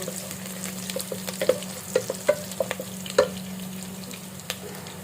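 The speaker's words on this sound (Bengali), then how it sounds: "এখন আমি মাংসটা দিয়ে দিলাম।" Marinated meat frying in hot ghee with garam masala for Dhaka-style tehari, a steady close sizzle under repeated scraping stirs and soft clinks of a utensil against the pot.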